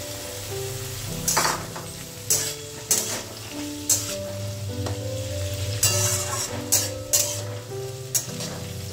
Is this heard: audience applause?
no